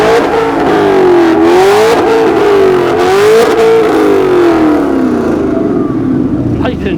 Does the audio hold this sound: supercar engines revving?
yes